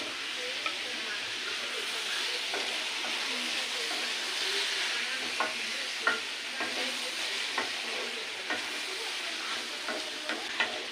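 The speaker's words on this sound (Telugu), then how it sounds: "ఇప్పుడు పసుపు వేసినాక బాగా కలుపుకోవాలి." Turmeric is stirred into a cooking mixture in a pan, giving a steady soft sizzle with scattered light scraping and tapping strokes of the spoon, close and continuous throughout.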